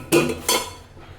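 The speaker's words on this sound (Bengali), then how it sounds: "একটা কাঁটা চামচ দিয়ে ঢাকনাটা উঠিয়ে আপনাদেরকে দেখাচ্ছি" A fork lifts the lid off a hot pot holding a freshly baked one-egg cake, giving two sharp metallic clinks in quick succession close by, then a fading rattle.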